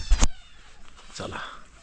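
A large cat meows once or twice nearby at a rural farm home, the call brief and moderately loud over quiet background.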